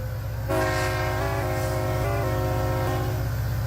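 A freight train horn blares loud and close in a train simulator game on a BNSF and Union Pacific line, sounding in sustained blasts over a steady rumbling rail drone and rhythmic clatter, with no talking.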